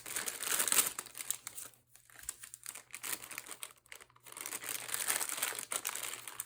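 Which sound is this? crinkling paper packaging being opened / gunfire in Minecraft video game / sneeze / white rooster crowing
crinkling paper packaging being opened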